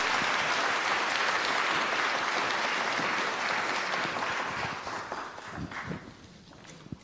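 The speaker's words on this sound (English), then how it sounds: "Give her a round of applause." An audience applauds at an awards event, a dense steady round of clapping that thins out and fades toward the end.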